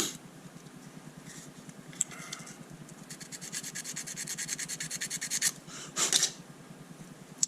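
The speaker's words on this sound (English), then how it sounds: "We'll sand away." Hand sanding of a G12 fibreglass avbay nosecone, a close, dry rasping rub that builds into rapid back-and-forth strokes, with a faint fan hum underneath and no speech.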